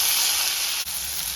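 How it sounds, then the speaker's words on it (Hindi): Cumin seeds and asafoetida sauté in hot mustard oil, giving a continuous close sizzling hiss with a brief dip in the middle. "सरसों तेल में जीरा, हींग थोड़ी सौटे कर ले रहे हैं"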